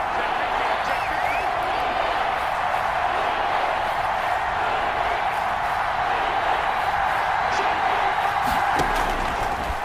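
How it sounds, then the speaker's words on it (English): Football stadium crowd at an NFL game roaring steadily as a dense, loud wall of noise throughout, urging a defensive stop on third down, with a few sharp bangs near the end. "This crowd dying for a stop."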